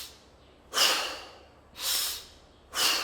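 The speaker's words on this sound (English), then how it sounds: "Inhale through your nose, exhale to the mouth." Three slow, even breaths in a beginner synchronized breathing exercise, each a soft, close airy rush through nose and mouth, spaced about a second apart in quiet surroundings.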